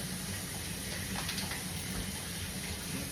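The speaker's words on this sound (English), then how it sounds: "I am also going in with a 1/2 cup of water." Half a cup of water poured from a cup into cake batter that already holds buttermilk, a steady, fairly quiet gushing pour lasting a few seconds with no talking.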